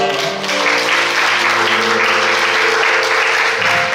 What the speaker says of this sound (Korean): 하나님께 영광을 박수드리겠습니다